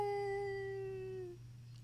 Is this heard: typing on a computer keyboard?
no